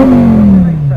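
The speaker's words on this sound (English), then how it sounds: "Hurricane Performante starting up there." A Lamborghini Huracán Performante in purple at an outdoor supercar show lets out a loud, close engine note that slowly drops in pitch, one continuous roar under the bustle of the event.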